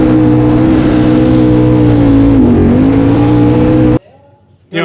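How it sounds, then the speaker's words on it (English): A Nissan Skyline R31 doing a burnout at a car show event, its engine holding a loud, sustained high-revving drone with a brief dip in pitch, then cutting off abruptly into near silence before noise returns. "we were going to do a burnout in the R31 here"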